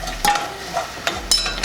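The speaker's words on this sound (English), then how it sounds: "We're gonna let this saute for about 3 minutes, okay?" Pizza sauce ingredients saute in a pan with a soft bubbling sizzle, punctuated by a few sharp clinks and taps of a spoon against the pan.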